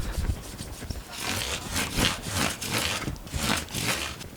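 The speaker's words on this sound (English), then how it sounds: "hit each of these frets with some micro mesh" A 12,000 grit micro mesh pad polishes guitar frets in quick back-and-forth rubbing strokes, producing a soft, rhythmic scratchy swish up close.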